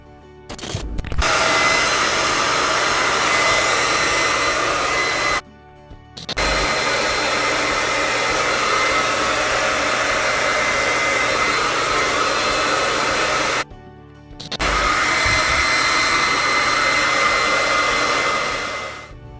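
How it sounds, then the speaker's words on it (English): A handheld hair dryer blow-drying curly hair roars loud and close in three long continuous runs, cutting out briefly twice between them, with no talking. "So I'm gonna go blow dry my hair and I'll be right back with you guys."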